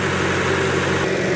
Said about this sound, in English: A Massey Ferguson 398. That was the weapon that I was driving today.